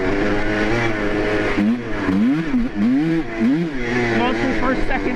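Cheap 2-stroke ATV quad engine buzzing loudly up close, its pitch rising and falling in repeated sweeps as the rider shifts through first, second and third gears on a tippy ride.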